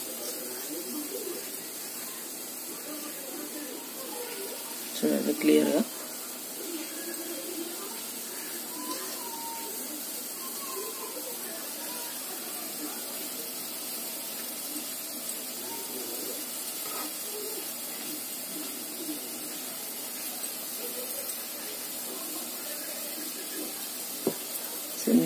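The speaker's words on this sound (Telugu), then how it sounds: "వాటర్ అంతా బాయిల్ అవుతుంది కదా" Water boiling in a pot on a kitchen stove gives a steady, faint hiss and bubbling that runs the whole time, with occasional clinks and a person speaking briefly.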